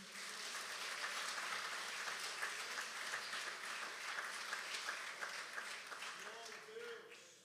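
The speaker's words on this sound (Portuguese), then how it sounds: "Se isso é verdade na sua vida, aplauda o Senhor Jesus." A church congregation applauds in praise, a dense, steady wash of clapping from many hands that carries on throughout and tapers slightly near the end.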